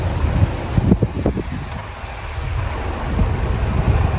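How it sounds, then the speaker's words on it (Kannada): Heavy rain pours outside as a dense, loud roar, with gusty rumbling bursts and no voices. "ಮಳೆ ಬೇರೆ ಜೋರಾಗಿ ಬರ್ತಿದೆ ಹೊರಗಡೆ"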